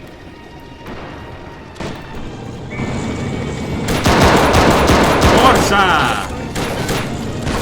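Gunfire in a Second Italo-Ethiopian War 1935 mod battle near a Coptic Church: scattered rifle shots building into dense crackling volleys and booms, loud and continuous, with a soldier's shout in the mix.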